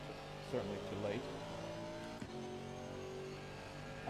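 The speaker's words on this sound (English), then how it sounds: "I just love how this car sounds." A race car engine in a racing video game drones steadily with a couple of brief revs and a sharp shift, heard faintly beneath a person talking.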